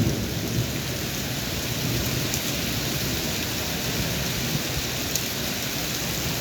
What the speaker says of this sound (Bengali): দেখেন আকাশের গর্জন